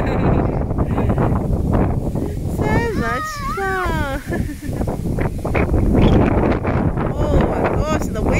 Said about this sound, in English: the wind is going to blow us away!